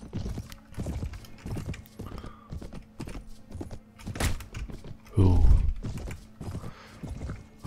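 Horse hooves clip-clop unevenly in the video game Mount & Blade: Warband, with irregular hollow knocks and one heavier thud, moderately close and without speech.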